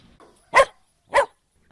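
Puppies barking, two short sharp yaps spaced about half a second apart, close and fairly loud against near silence.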